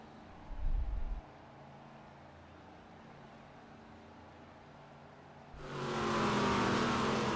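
A stock car engine from Game Stock Car 2012 at the Velopark circuit roars briefly near the start, drops back to a low hum, then surges into a loud, sustained high-revving drone toward the end.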